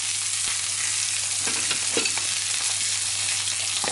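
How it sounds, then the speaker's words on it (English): Garlic and onion hiss and sizzle in a hot pan alongside lamb chops, a steady frying crackle with a few stirring scrapes, close and loud with no talking. "I'm going to add in the garlic and the onion now"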